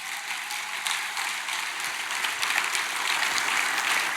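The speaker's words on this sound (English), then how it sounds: "Let's give Keith Lair a big round of applause." A church congregation gives a guest speaker a big round of applause during a sermon on biblical parenting, a thick, steady wash of clapping that holds at even loudness for the whole stretch.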